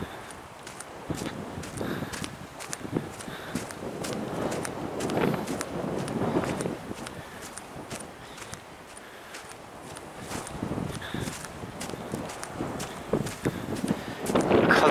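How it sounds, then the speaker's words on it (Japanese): Strong outdoor wind buffets a microphone near a park, giving a continuous rumbling roar with irregular gusty surges and thumps throughout. "ずーっと風吹いてる。 すごい風が。"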